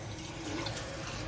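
A water tap runs steadily into a sink as someone rinses off after a shave, a continuous close splashing stream with no talk.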